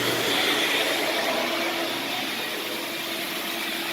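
A 5-gallon shop vac blows air into a car's tailpipe, making a loud, constant broadband whoosh that holds steady with no pauses or talking.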